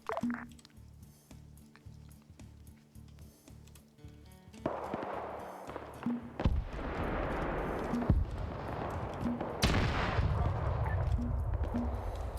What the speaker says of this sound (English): Something big just exploded